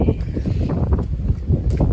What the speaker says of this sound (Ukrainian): У нас такий вітер знову піднявся.